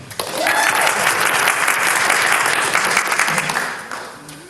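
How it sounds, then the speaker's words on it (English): Church congregation at a Sunday service claps enthusiastically, a full, loud round of applause from many people that swells quickly and holds for several seconds before tapering off. "Incite enthusiastic clapping."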